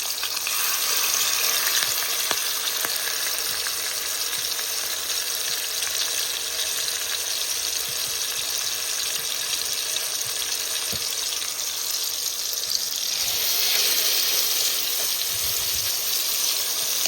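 Turkey meat cutlets fry in hot oil, giving a steady, close sizzle and crackle that holds at an even level throughout, with no voices.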